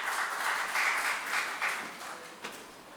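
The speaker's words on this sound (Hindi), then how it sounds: "महिला शक्ति के लिए जोरदार तालियां होनी चाहिए" An audience claps steadily at an awards ceremony for a cow-protection trust's foundation day, a soft continuous patter of many hands that fades slightly toward the end, with no talking.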